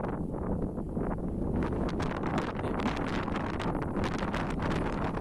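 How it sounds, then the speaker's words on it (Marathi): Strong wind buffets the microphone on an exposed monsoon hilltop fort beside a deep valley edge, a loud, continuous roar with gusty surges throughout and no clear talk. "वारा खूप जोरात आहे"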